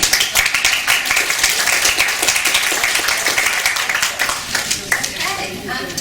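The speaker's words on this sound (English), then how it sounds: "Round of applause for the" A conference audience in Melbourne claps in sustained, lively applause for several seconds, with voices mingling in the background.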